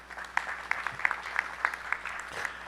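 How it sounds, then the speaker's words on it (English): A round of applause marks the end of a segment at a regional climate report launch event. It is faint and thin, with scattered individual claps at an uneven rhythm and no talking over it. "I'd like to have a round of applause for everyone"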